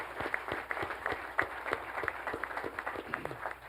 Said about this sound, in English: So I want to give a round of applause to Marjorie and her crew.